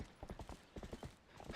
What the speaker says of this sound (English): Why is taking a horse over like a dinky little bridge such a challenge?